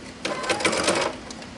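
A sewing machine stitching a fabric strip for a jelly roll rug: a steady, close mechanical whir-rattle lasting under a second before stopping, with no speech.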